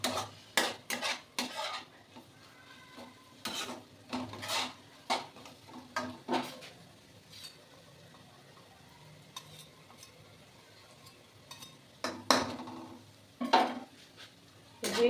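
A utensil stirs and scrapes food in a pan, giving intermittent clattering, scraping strokes in irregular bursts against a quiet, faintly sizzling background, with no talking.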